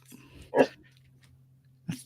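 A dog makes two short, soft mouthy huffs or bark-like sounds about a second apart, close by but fairly quiet, over a low steady hum.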